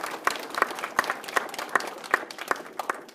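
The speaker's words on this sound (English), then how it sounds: "Let's give them one more round of applause." Scattered, fairly quiet hand claps from an audience honoring the third nine-weeks Terrific Kids at a school program, single sharp claps spaced about every third of a second rather than a dense ovation.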